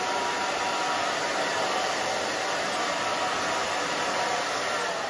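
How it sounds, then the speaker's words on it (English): A hair blow dryer set on low runs steadily and close by for the whole stretch, a smooth constant whoosh with no talk, used while round brushing a short pixie cut on thin, fine hair. "Just turn your blow dryer on low. I have it on low now."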